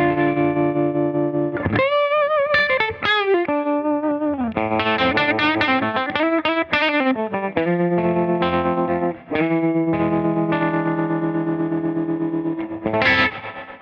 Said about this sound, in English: I love the tremolo on this thing.